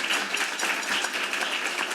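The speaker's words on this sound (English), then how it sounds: "Big round of applause." Crowd applause for institute staff at an annual dinner, a steady broadband wash of many hands clapping throughout, fairly even in loudness with no voices over it.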